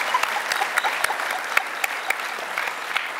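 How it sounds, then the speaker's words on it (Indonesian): A studio audience on a Jakarta talk show applauds steadily, a dense patter of many hands with a few sharper claps standing out, moderately loud and without speech over it. "Kita kasih tepuk tangan dong untuk Kakak Tompi."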